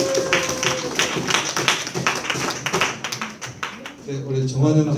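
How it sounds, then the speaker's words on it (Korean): Scattered hand claps and light applause from a church leaders' meeting audience, fairly close and uneven, with a voice speaking over the end. "여러분 뜨거운 박수 부탁드립니다"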